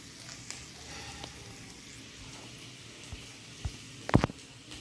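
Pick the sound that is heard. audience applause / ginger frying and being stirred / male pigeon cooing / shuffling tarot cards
ginger frying and being stirred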